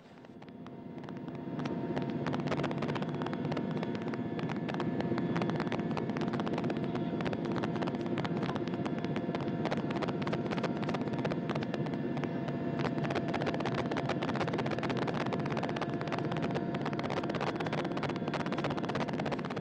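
A constant heavy engine drone with whirring rotor noise from a helicopter supporting the Soyuz MS-03 landing search and recovery fills the scene, rising in at the start and then holding steady and loud throughout.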